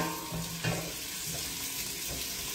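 Onions sauté in a tall cooking pot for a salmon sinigang, giving a soft, continuous sizzle with a couple of brief louder bursts of crackle and stirring.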